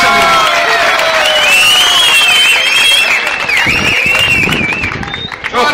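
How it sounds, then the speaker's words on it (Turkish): Crowd applause at a village holiday festival in İnönü, steady clapping for several seconds with a raised voice and tonal sound riding over it, tapering near the end. "Kuvvetli bir alkış, bir alkış alıyoruz"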